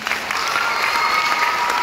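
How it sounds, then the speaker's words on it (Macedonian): Audience applause at a charity concert, a dense, steady burst of clapping from a crowd that holds for the whole stretch. "Само ако дајте на аплауз."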